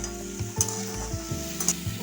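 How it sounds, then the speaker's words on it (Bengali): Ridge gourd sizzles steadily as it fries in oil in a pan, a close, even crackle broken by a couple of sharp utensil clinks and stirring scrapes. "আমি এবার ঝিঙেটাও একটু লাল লাল করে ভেজে নেব"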